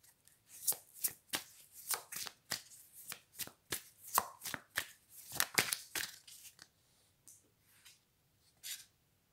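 Tarot cards are shuffled close up in quick repeated riffling bursts, a rapid run of crisp flutters that slows and thins toward the end, in a quiet room with no talking.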